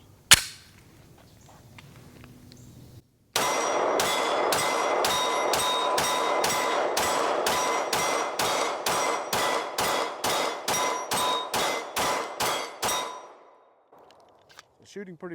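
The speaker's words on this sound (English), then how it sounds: "Shooting pretty fast. I'll take a picture of the target, 15 yards here." Rapid pistol fire with Blazer brass ammunition through a Radian Ramjet-equipped gun at an outdoor range: a fast, steady string of about twenty loud, evenly spaced shots, ringing sharply, then stopping abruptly.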